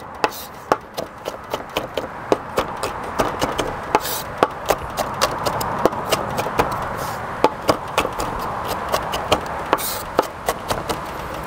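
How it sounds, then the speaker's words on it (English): A knife chops garlic cloves to a small, even size, a quick run of crisp, close strokes that keeps a steady rhythm with only brief pauses. "I added 3 to 4 garlics. Chopping them as the same size as the shallots."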